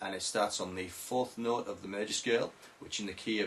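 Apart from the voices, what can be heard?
None of the usual background noises is heard.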